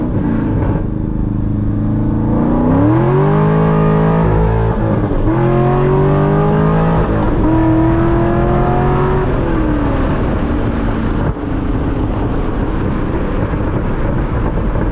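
A Chevrolet C6 Corvette accelerates hard in first gear, heard loud and close from inside the car. The engine drone climbs steadily in pitch, dips briefly and climbs again, then settles into a steady roar.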